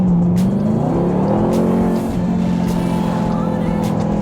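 A 2021 Dodge Durango SRT Hellcat accelerates hard, its engine tone rising and shifting through a gear change, loud and close from inside the cabin with no talking.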